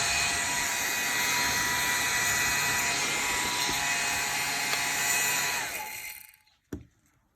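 A small electric fan whirs loudly with a steady high-pitched whine, then switches off and spins down, followed by a single click.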